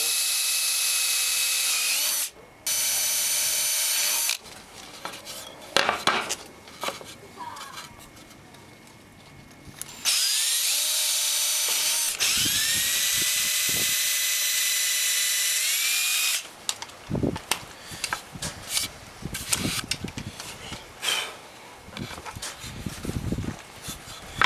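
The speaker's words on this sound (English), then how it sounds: "So we'll go ahead and drill all 4 holes." A power drill whines in several long bursts, spinning up and boring four holes into wood, with clattering handling noises between runs.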